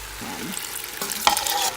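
Diced fresh and canned tomatoes being stirred into a chickpea and lentil stew over high heat, a brief close scraping stir with soft sizzling and one sharper clink near the end, no talking.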